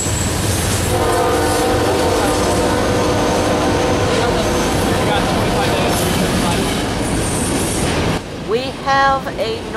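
A northbound freight train carrying loaded welded rail passes on the LCL line, a loud continuous roar with a sustained horn blast, the rumble thinning as it moves off.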